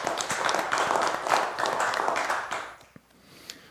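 A church congregation at a Sunday worship service breaks into sustained applause, a dense wash of many hands clapping that fades out near the end, with a few isolated taps afterward.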